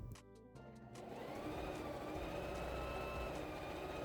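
Sewing machine stitching pockets onto a fabric skirt panel starts after a few short clicks and then runs in a steady, continuous whirring hum, faint and close.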